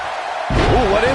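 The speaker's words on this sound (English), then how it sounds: "Scoop slam." A heavy body-slam thud lands partway through a scoop slam in the WWE 2K19 wrestling game, a loud dull impact followed by voices and crowd noise.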